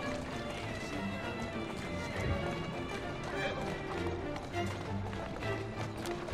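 Horse hooves clip-clopping in Assassin's Creed Syndicate, a steady walking rhythm under background game noise, faint and continuous.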